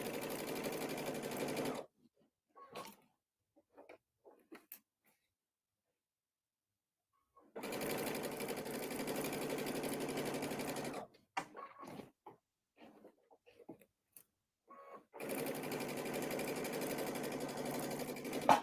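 Sewing machine stitching the edges of a nativity bench pillow, three separate bursts of fast steady whirring, each separated by quiet pauses with faint fabric handling.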